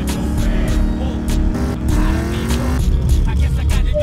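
A car in the Roadkill video game drives along with a steady engine drone and rising and falling pitch as it accelerates, loud and close with a few sharp transient knocks.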